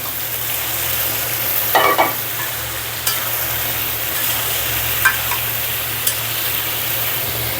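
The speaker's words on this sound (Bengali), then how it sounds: "মশলা কষানো হয়ে গেছে, এবার দিয়ে দিব সবজিগুলা" Potato and pointed gourd slices go into sautéed spices in a pan, setting off a steady sizzle punctuated by a few sharp scrapes and clinks of stirring, with a low hum underneath and no talking.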